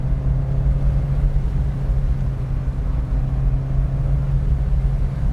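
A 2025 Mazda MX-5 Miata drives through corners on a curvy back road, heard from inside as a steady low engine drone and road rumble with a faint whine, even and unbroken, no voices.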